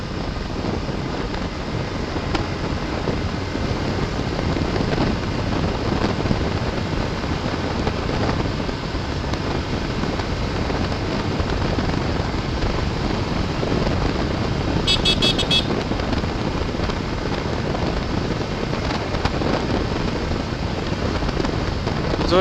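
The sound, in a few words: motorcycle riding at speed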